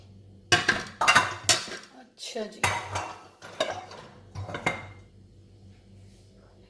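Dishes and cutlery clink and clatter in a home kitchen as a small plate is swapped for a bigger dish while preparing chicken broast. The sharp knocks come in bursts and are close and fairly loud, with someone talking between them.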